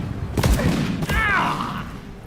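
A flintlock pistol fires in the Deep Rock Galactic video game: two close, booming gunshots about half a second apart, followed by a ringing, whistling tail.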